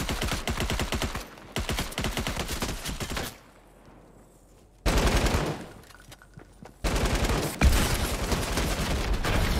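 Rapid automatic gunfire in Fortnite, loud dense bursts of fast repeated shots broken by a quiet gap and then resuming in several long volleys, with no speech over it.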